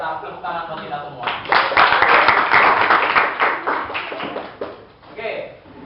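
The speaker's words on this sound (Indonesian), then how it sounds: "kasih tepuk tangan buat kita semua" A classroom group claps hands together in a burst that swells, holds for a few seconds and fades out; a voice is heard around the clapping.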